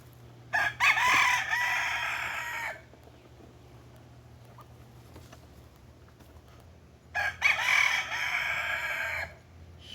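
Chickens in a backyard chicken yard, with a rooster crowing loudly and close twice, separated by several seconds of low clucking and ambient farm noise.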